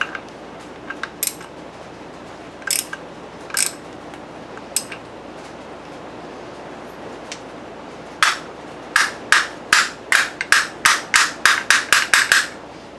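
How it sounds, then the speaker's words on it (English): Metallic hammer blows ring out close by as a pin is hammered into a 2007 Chevy 5.3 engine: a few scattered strikes, a pause, then a quickening run of about a dozen sharp hits. "I told her I wasn't going to use a hammer. I did."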